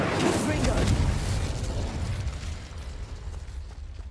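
A Confringo spell blast in the video game Hogwarts Legacy, a deep booming burst at the start that rumbles and slowly fades over a few seconds, with game noise beneath.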